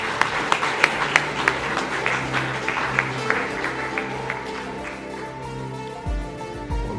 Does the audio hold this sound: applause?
yes